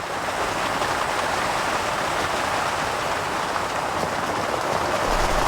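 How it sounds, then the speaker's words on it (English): Steady rain pours down in the Moremi wilderness of Botswana's lion country, a dense, even hiss with no pauses and no voices across the whole stretch. "These short bursts of rain often last only 10 or 15 minutes at a time."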